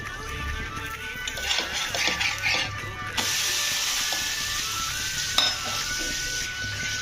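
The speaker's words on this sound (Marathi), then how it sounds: "चला पलटी करून घेऊया हिला सुद्धा. परतून थोडं तेल घालूया." Amboli, a rice pancake, frying in oil on a pan after being flipped, a steady close sizzle with a few scraping clicks from the spatula at first, then a louder even hiss.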